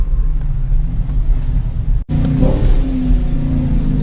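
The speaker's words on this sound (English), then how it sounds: "I even put the car in neutral when I wanna rev the engine" A Dodge Challenger engine revs in neutral, a loud, close rumble that cuts out abruptly for an instant midway before surging back with a rising, throaty growl.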